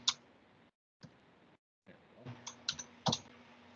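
Keys on a plugged-in computer keyboard are tapped in a few quiet clicks, some single and some in quick bursts, with short silent gaps between them and no talk.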